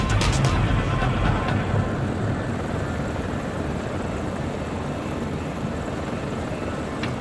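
Cheetah gunship helicopters in the war video game Tom Clancy's EndWar, a steady loud rotor and engine drone holding level throughout, with a denser burst at the very start.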